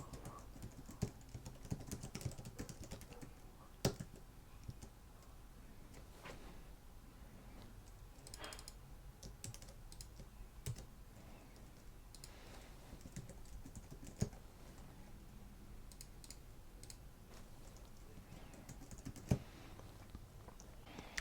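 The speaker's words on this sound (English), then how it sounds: "So here I'm going to type in the title." A title typed on a computer keyboard: quiet, continuous key clicks with a few louder taps, close and alone without speech.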